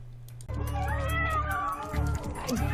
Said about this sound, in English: Cat videos?